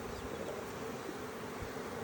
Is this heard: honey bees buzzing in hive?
yes